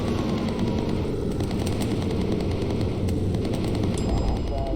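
In the World War II bomber game Bomber Crew, friendly fighters engage German fighters amid rapid, continuous machine-gun fire. Dense rattling bursts run over a constant roaring engine drone, loud and sustained throughout.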